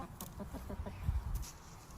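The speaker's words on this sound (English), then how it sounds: "She's feeding the chickens." Chickens cluck in quick, close bursts while being fed, a busy flock sound with a few louder squawks and no talking.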